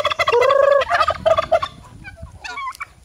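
Chickens gobble and call in loud bursts close by, with several birds calling over one another, then quieter clucks toward the end.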